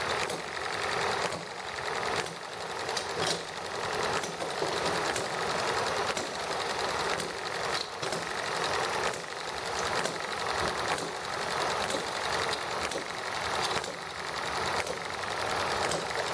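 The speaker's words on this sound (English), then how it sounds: "I think I have a way to try running the generator number 3 off the ET1 again here" Generator number 3's engine runs steadily with a rapid mechanical clatter and regular knocking beats, dense and continuous at moderate distance.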